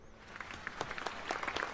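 A brief burst of scattered clapping for a pro wrestling main event, light and uneven, a handful of hands rather than a roaring arena.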